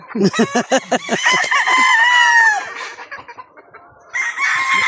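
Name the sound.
chickens on a farm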